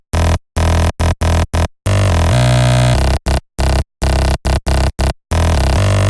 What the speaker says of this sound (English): It's the bass Awake from the Oxygen sample pack.